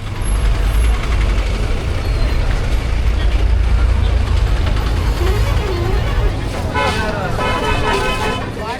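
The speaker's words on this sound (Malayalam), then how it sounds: "ഇവിടുത്തെ മിനി ബസ് കാണാൻ നല്ല രസമാട്ടോ." A mini bus in Velankanni rumbles loudly nearby with a heavy engine drone, then gives a sharp air-brake hiss and short horn toots toward the end, with voices mixed into the street noise.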